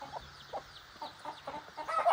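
Backyard chickens and ducks at a rural home, soft intermittent clucks scattered over quiet ambient noise, fairly distant, with a louder burst near the end.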